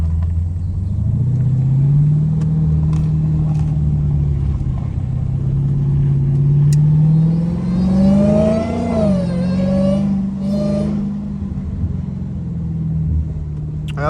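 A Dodge Hellcat SRT V8 rumbles close and loud while cruising slowly on rough roads, then revs upward in a rising swell before settling back to a deep idle-like burble.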